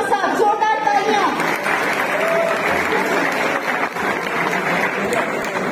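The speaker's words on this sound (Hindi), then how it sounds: "गुलाम अली खान साहब जोरदार तालियां।" A concert hall crowd at a 2022 classical music festival gives Ustad Ghulam Ali Khan loud, sustained applause, with voices heard over the continuous clapping.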